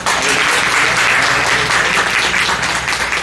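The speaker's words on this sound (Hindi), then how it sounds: "आप हमारे अतिथि जो आए हैं उनके लिए मेरा जोरदार तालियों से" Loud, sustained applause for guests from a crowd at a Yoga Day event, dense and even for the whole stretch with a low hum underneath.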